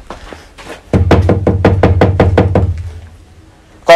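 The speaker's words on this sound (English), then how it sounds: "I go knock now." A rapid series of about ten sharp knocks on the door of a house in a compound, loud and close, following a few moments of quiet voices.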